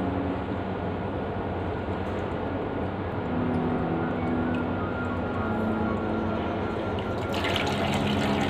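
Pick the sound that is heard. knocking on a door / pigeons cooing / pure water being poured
pure water being poured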